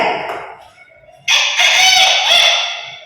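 A child imitates a rooster's crow, one long rising and falling call, close to the microphone after a brief soft vocal sound.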